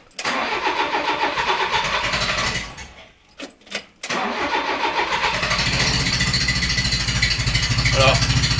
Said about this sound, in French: Il démarre et il cale.